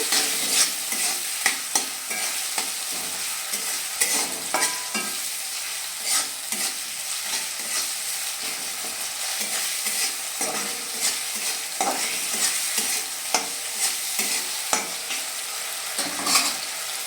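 Spice masala for a home-style vegetable dal frying over medium heat while being stirred, a continuous bright sizzle with frequent rhythmic scrapes and clinks of the spatula against the pan, close and busy throughout.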